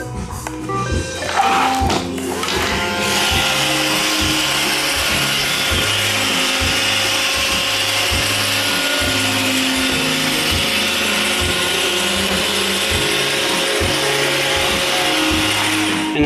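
An iRobot Roomba 561 robot vacuum, freshly cleaned and re-lubricated, runs steadily up close with a constant motor whir and rhythmic brushing rattles, recorded alone.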